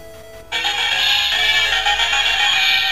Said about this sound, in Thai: อันนี้ก็จะเป็นเสียงเกมเคลียร์